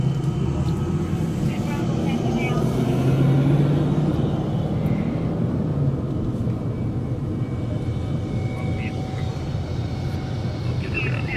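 A U-2 Dragon Lady taxiing after landing in strong winds, a loud steady jet engine rumble and roar heard close by, with a faint tonal whine rising over the drone.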